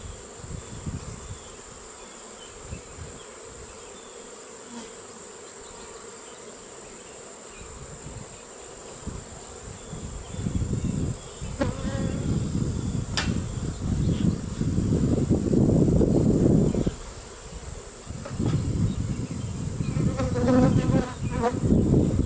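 Honey bees buzz steadily throughout an open beehive inspection, a dense insect drone that swells louder and closer in the second half, with occasional rustling from handling the hive.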